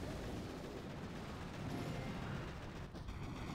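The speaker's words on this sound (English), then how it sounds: "the Rainmakers are doing a pretty good area splash here" Rainmaker rocket barrages in the Boom Beach video game land as a dense, continuous rumble of overlapping explosions and splashing impacts, steady and fairly faint throughout.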